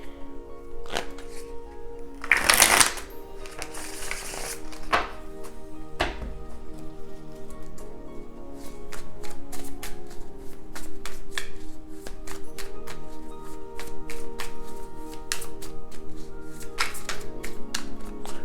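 A deck of tarot cards is shuffled close up in a quiet room. Quick light riffles and taps run steadily throughout, with one louder rustling burst near the start and no speech.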